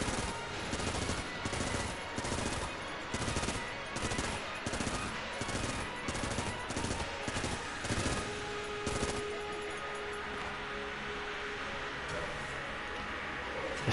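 Enemy gunfire in the roguelike shooter Enter the Gungeon, rapid regular bursts of game shots repeating steadily for several seconds before a pause, with a steady tone carrying on underneath.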